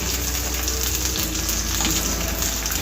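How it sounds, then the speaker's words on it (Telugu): Mustard seeds, cumin, dried red chilies and green chilies frying in hot oil, a dense steady crackling sizzle heard up close without pause or talk. "ఇవన్నీ దూరగా వేయించుకోవాలండి. ఈ పచ్చిమిర్చి మొత్తం కలర్ చేంజ్ అయ్యే వరకు వేయించుకోవాలి."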